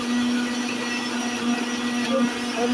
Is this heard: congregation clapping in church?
no